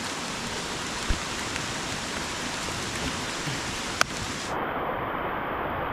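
Heavy rain pours down steadily, a dense, loud, unbroken hiss with a couple of sharp drips or clicks standing out, and no voices.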